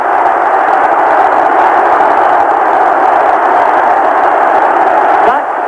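A huge crowd of 50,000 Celtic supporters roars and cheers at the 100th Scottish Cup final, a dense, unbroken wall of noise heard through a narrow, radio-like broadcast sound.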